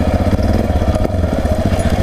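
A Yamaha XT 660R single-cylinder motorcycle climbs a single-track hill, its loud close engine thumping in a fast, rough, continuous pulse without any voices.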